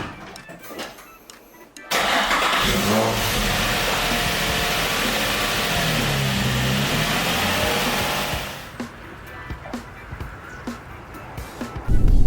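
Nissan Fairlady Z33 with a freshly fitted NISMO clutch and lightweight flywheel, driven through town; a steady engine drone under road noise holds for several seconds, then drops to quieter idling with a few light clicks.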